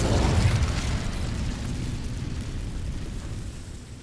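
A fire spell bursts in the video game Hogwarts Legacy, a loud whooshing blast that peaks at once and then settles into a steady, rumbling roar of flames fading over a few seconds, with no voices.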